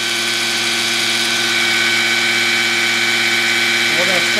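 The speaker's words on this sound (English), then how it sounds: "Spin that oil pump for a good 2 minutes" A drill spins the oil pump shaft of a Chevy 350 engine to prime it, a loud, steady whine that runs without a break.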